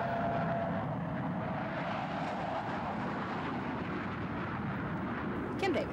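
Air National Guard jets flying at an air show, a steady loud engine roar sweeping past in a broad continuous rush that holds without a break.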